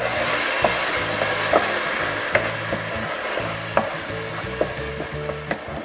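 A spoon stirs turmeric, red chili, coriander and garam masala powders through a sizzling pan, with a steady frying hiss broken by soft scraping strokes and light knocks, close by.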